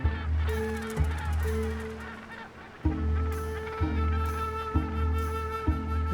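Cape gannets call in a crowded breeding colony, with loud, harsh, repeated honking cries overlapping from several birds close by and continuing throughout.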